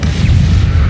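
A spell explosion in Hogwarts Legacy, a loud, dense boom with a rumbling low body that fills the whole brief moment without any talk.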